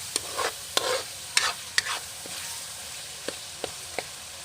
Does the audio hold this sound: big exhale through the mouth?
no